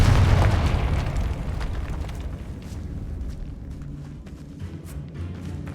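A Confringo spell blast in the Hogwarts Legacy game opens with a loud, booming fiery explosion that rolls off into a rumbling tail with scattered crackles and debris.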